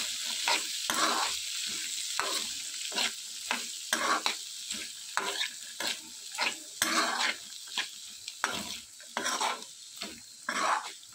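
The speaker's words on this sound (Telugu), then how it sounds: "గరం మసాలా వేసుకుని ఇదంతా బాగా మిక్స్ చేసుకోవాలి." A spoon stirs boiled chickpeas with garam masala in a hot pan, scraping and clinking in an irregular rhythm over a soft sizzle, close and fairly quiet with no talk.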